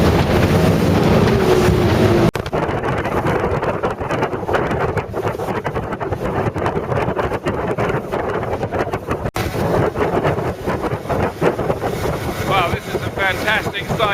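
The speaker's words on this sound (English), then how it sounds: "that's the lead boat there, just getting fired up" A speedboat engine running at about 35 knots on the Solent drones steadily beneath heavy wind buffeting, with a few faint voices in the background.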